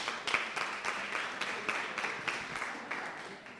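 An audience at a Chilean public-security forum applauds, with fairly quiet, steady clapping that feels somewhat distant.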